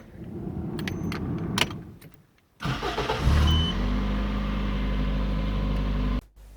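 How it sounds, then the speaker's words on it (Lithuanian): Keys jingle briefly, then a Toyota Starlet engine cranks and catches, settling into a steady low idling rumble before cutting off near the end. "давайте заводите машины"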